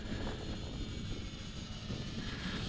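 SYMA X5C quadcopter drone in flight on a test run over grass, giving a steady broadband whir of small rotors mixed with wind buffeting on the microphone, continuous and fairly loud throughout.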